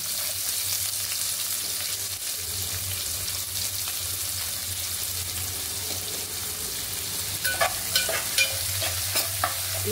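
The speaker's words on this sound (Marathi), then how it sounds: "कांदा चांगला परतवून घेऊया।" Onion sautéing in hot oil with cloves and a piece of cinnamon in a pan, a steady close sizzle that runs throughout, joined near the end by a few sharp stirring scrapes.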